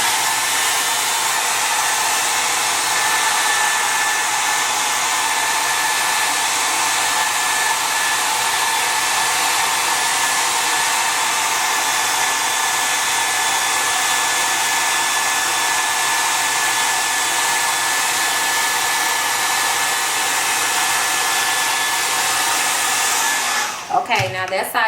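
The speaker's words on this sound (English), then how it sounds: "So I am going to blow dry this completely dry." Hair dryer blowing steadily and loudly on hair for about twenty-five seconds while a ponytail is styled, a continuous broadband roar with a faint steady whine, cutting off abruptly with a rustle at the very end.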